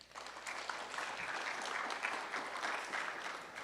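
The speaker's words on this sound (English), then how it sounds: "let's give one more round of applause to all of our candidates" Sustained applause from a crowd at student body elections, steady clapping filling the room without a break.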